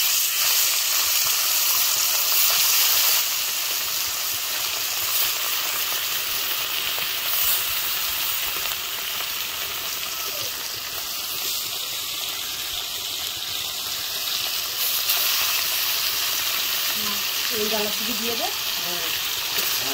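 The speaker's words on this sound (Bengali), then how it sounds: "আমি দিয়ে দেবো গরম তেলের উপর" Fish fry in hot oil with a dense, steady sizzle and crackle that fills the whole stretch, loud and close, with brief voice sounds near the end.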